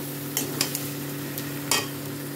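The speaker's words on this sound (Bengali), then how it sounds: "এবার দিয়ে দেবো ভেজে রাখা চিংড়ি মাছগুলো দিয়ে 2 মিনিট মতো আরও কষিয়ে নেব" Fried prawns are stirred into jackfruit, potato and spices sautéing in a pan. A steady low sizzle runs throughout, with a few brief scraping strokes from the spatula. No voices are heard.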